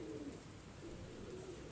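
Pigeons coo softly among racing birds under a steady rumble of background noise, a few low, faint coos at the start and again later.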